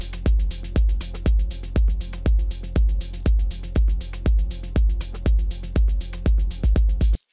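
Melodic techno kick drums and hi-hats play together in a steady four-on-the-floor pattern, with punchy low thumps and bright hat ticks repeating evenly and close before cutting off.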